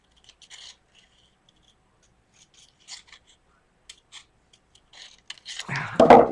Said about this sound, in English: I need to use the other scissors.